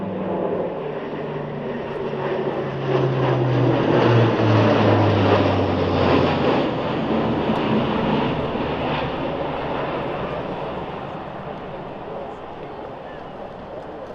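An Airbus A400M Atlas German Air Force military transport accelerates past during a flying display at RAF Fairford. Its turboprop engines make a loud, sustained roar and drone that swells, then slowly fades, as a commentator talks over it.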